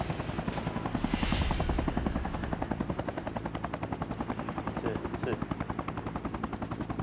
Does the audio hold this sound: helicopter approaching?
yes